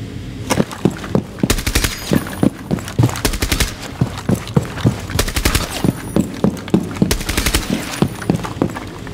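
Rapid bursts of automatic gunfire from Rainbow Six Siege as the character fires while sprinting, loud sharp volleys repeating in clusters with footstep-like thuds between them, no talking.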